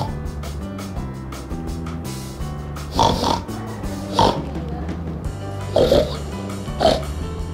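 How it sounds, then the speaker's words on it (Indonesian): Pig snorts and oinks come in short grunting bursts over a steady background of music, with several separate calls spaced a second or so apart. "Begini suara babi adik-adik."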